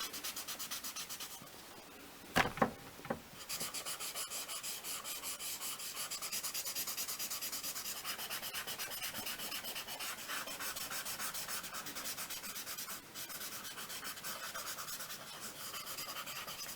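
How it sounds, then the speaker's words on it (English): A dirty paper towel rubs graphite across a small sheet of paper to lay down a light ground, a soft, steady, close scrubbing that continues throughout, with a couple of sharper knocks near the start. "So I'm going to take this dirty paper towel now and use it to effectively set a light ground"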